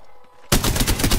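Apex Legends firefight: after a brief quiet moment, a rapid burst of automatic gunfire starts suddenly, loud and close, with shots repeating in a fast, steady rhythm.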